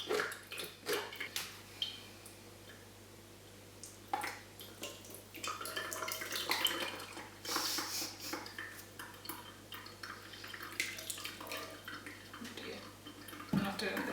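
Kitchen clatter of a mixture being poured and pressed through a sieve, with scraping, clinks of utensil on metal and wet drips in short irregular bursts, close by and moderately loud, a steady low hum underneath.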